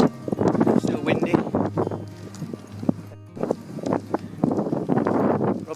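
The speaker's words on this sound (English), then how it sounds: "Still windy." Gusty wind buffets the microphone on an exposed ridge of the Newlands Horseshoe in the Lake District, with steady low rumble and broadband gusts rising and falling throughout, and a voice talking over it.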